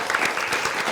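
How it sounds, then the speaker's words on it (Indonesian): A brief burst of audience applause closing a televised studio discussion with guests from a Palembang high school: steady, even clapping from a small group, heard alone. "Boleh tepuk tangan buat kita semua"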